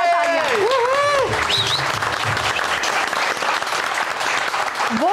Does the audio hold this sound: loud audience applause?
yes